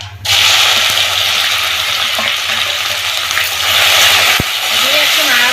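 Elephant apple pieces go into hot oil with cumin seeds and bay leaf, and the pan gives a loud, dense sizzle that carries on steadily with a brief clink partway through.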